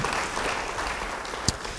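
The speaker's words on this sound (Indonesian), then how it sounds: "Beri tepuk tangan bagi Dia." A church congregation bursts into applause, giving a short stretch of steady, moderately loud clapping. One sharp, louder clap stands out near the end.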